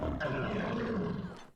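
A wolf lets out a roar in the online shooter game Wolfteam, a single loud, rough, sustained growling roar lasting over a second before cutting off, alone without talk.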